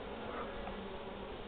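Honeybees buzz around a hive as they land carrying pollen loads on their legs, a dense, steady hum heard close and alone for a brief moment.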